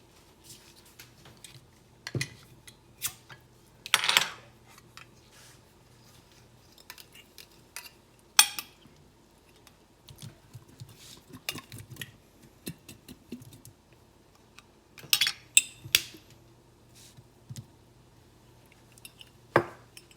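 A glass jar of canned potatoes is opened, drained and cut into smaller pieces in a kitchen, with scattered sharp clicks, taps and light clatter at irregular intervals and quiet stretches between them.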